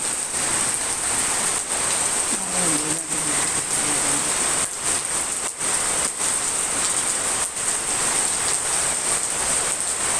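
Steady rain pouring down, a dense, even hiss of drops on surfaces that runs unbroken and close throughout, with a faint low murmur briefly underneath.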